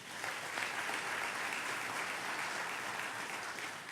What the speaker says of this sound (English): How about a round of applause for Sheriff Ivey?